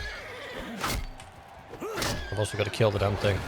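A horse whinnies briefly in the video game Mount & Blade II: Bannerlord, followed by a thud, while someone talks over it.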